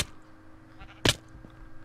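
A single short sheep bleat from the game Minecraft sounds midway, fairly clear against a quiet background with faint low hum.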